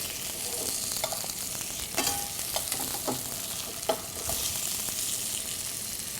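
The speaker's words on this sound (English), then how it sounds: "we're going to go ahead and flip the salmon" A salmon fillet sears in a hot pan just after being flipped, giving a steady, close hiss of sizzling oil with a few small pops and spatters throughout. No one speaks.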